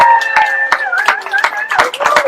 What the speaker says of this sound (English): I want us all to give a massive round of applause and congratulations for Neelam